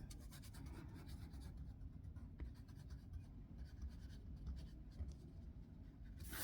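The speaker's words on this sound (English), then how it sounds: "So actually we'll erase this one now" A pencil drawing of cubes being erased, the rubber eraser rubbing across paper in a close, steady, scratchy stroke with brief pauses, no voices.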